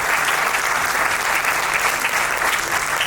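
An audience at a Gujarati poetry gathering applauds award-winning poets with a dense, continuous burst of clapping that stays loud and even for about three seconds.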